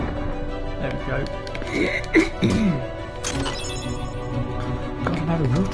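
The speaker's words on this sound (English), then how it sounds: "I'm having real trouble clearing my throat today." Someone repeatedly clears their throat in a few rough, strained bursts amid soft murmuring and background game sound during a PS4 live broadcast, fairly close to the microphone.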